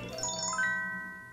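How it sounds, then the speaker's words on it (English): A phone chimes to announce an arriving email, a short bright run of bell-like tones that rises and then rings out as a sustained jingle, heard alone and fairly clear. "My phone announces the arrival of an email."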